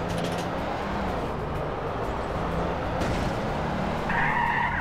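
A jeep in Garry's Mod skids along with a continuous tire-scrubbing roar and engine noise, loud and steady throughout, with a brief higher whine rising near the end.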